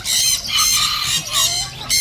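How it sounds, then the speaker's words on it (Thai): Serama chickens at the Chatuchak pet market squawk and cluck loudly and close by in repeated bursts, with no talk. "เฮียกุ้งบอกว่ามีไก่สลามอเพิ่งมานะฮะ"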